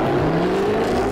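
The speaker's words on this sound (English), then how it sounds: "feeling that whoosh of power from the turbo" A turbocharged car engine accelerating, a steady loud roar with rising pitch that climbs smoothly throughout, close and continuous with no talk.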